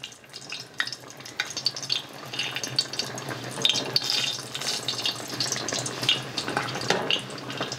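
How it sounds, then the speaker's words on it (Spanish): Serrano chiles fry in hot lard for chiles capones with a close, continuous crackling sizzle, fluctuating in bursts with spitting pops and no voices. "Lo voy a poner en la manteca porque así es como los hace mi mamá y quedan bien buenos"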